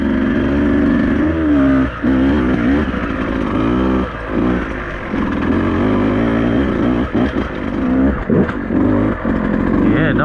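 A Beta 200RR enduro dirt bike rides a forest trail. Its engine roars loud and close almost without a break, revving up and easing off over uneven ground, with a brief dip in power near the end.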